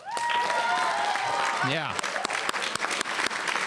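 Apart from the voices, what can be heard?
audience applause at a convocation ceremony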